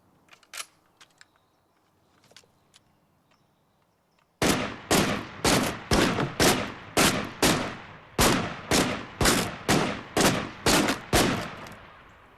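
Gunfire from a shooting session: after a few faint scattered knocks, about fourteen loud, sharp shots ring out in a fairly regular rhythm, each with a short echoing tail, with no speech.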